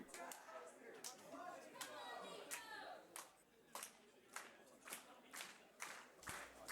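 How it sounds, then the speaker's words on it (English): A British wrestling crowd claps slowly in unison, sharp hand claps landing at steady, evenly spaced beats from a moderate distance, with a busier burst of crowd noise and chatter at the start. "slow clapping going on by the crowd."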